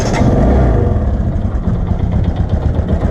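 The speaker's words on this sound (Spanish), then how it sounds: "Está rozando el escape con el eje del caballete central o el bípode, como se le llama." A motorcycle accelerates close by, its exhaust rubbing against the center stand shaft; a loud, low, rough engine rumble with a gritty, rattling texture runs continuously throughout.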